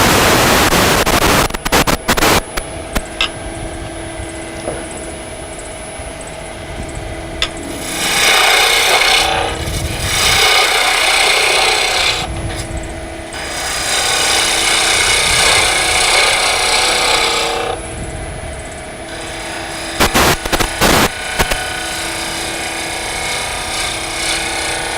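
A miniature wooden bird house is shaped on a wood lathe, with a steady motor whine and the tool scraping the spinning wood in long rasping bursts, broken by short pauses.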